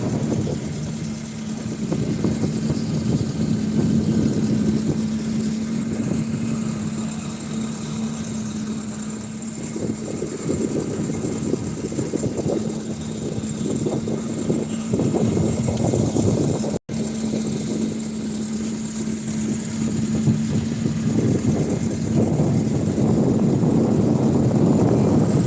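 A boat engine idles steadily after being restarted, a loud, constant drone with a persistent hum and no breaks apart from one brief dropout partway through.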